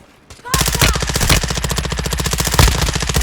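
Loud, rapid automatic SMG gunfire in Call of Duty: Warzone 2.0 erupts after a brief quiet moment and continues in a dense, unbroken stream of close shots with occasional heavier bursts.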